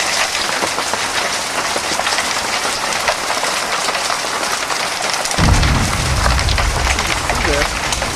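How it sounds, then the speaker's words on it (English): A hailstorm with pounding hail and heavy rain on a house: a dense, loud, continuous roar of impacts throughout, deepening into a heavier low rumble in the last few seconds, with a voice faintly under the noise. "We're in the middle of a hailstorm."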